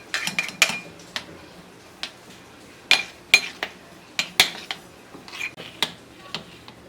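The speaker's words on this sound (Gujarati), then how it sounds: "એક વાટકીને તળિયે આ રીતે ઘી લગાવી એનાથી આપણે એને આમ સ્પ્રેડ કરી દઈશું" A ghee-greased steel bowl pressing and spreading mandvi paak in a tray, producing a series of light metallic clinks and taps at irregular intervals, close and fairly quiet with no talk.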